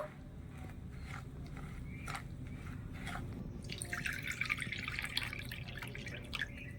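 Water is added in small amounts to a palm fruit pitha batter, giving soft, steady dripping and trickling that grows a little busier partway through, close and fairly quiet with no talk.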